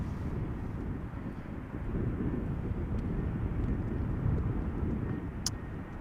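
An ITA Airways Airbus A320 arriving at Amsterdam Schiphol, heard as a steady, broad jet rumble with wind buffeting, fairly distant and continuous with no voices.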